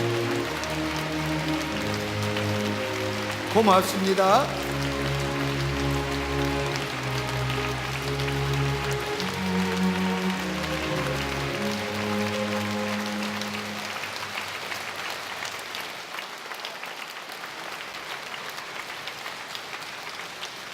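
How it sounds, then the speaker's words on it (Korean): A church congregation applauds in a sanctuary, a steady, dense wash of clapping that carries across about twenty seconds beneath organ or keyboard music, with a brief spoken thanks early on before the applause slowly thins out. "여러분 나가실 때 큰 박수로 환영하시죠"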